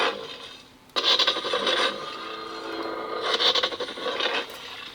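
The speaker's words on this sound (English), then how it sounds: "Love that ignition retraction sound. Sounds kind of like a transformer." A Neopixel lightsaber ignites and retracts, a gritty rasping whoosh that surges up, holds with a crackling hum, then swells again in a second burst, close and fairly loud.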